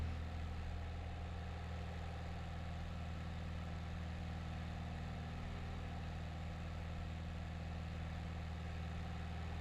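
An old V-tail light airplane's piston engine drones steadily and loudly through a climb, a constant low hum with no change in pitch or rhythm and no voices.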